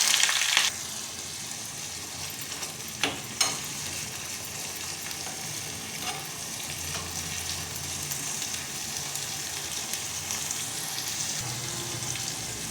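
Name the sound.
shallots and ginger sautéing in pan on slow flame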